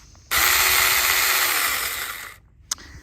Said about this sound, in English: I have been able to use the chainsaw to cut through these lengths here.